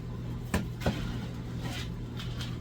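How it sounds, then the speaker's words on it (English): A plastic mushroom grow bag being opened, two close crinkling rustles a moment apart followed by softer handling noise over a low steady hum. "Open up the bag."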